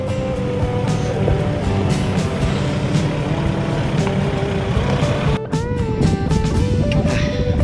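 A Toyota Hilux engine labours up a steep road to Mt Balagbag, a continuous heavy droning roar with shifting pitch and a brief dip mid-way, loud and close throughout with no voices over it.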